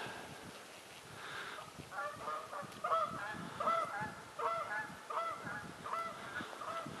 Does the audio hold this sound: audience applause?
no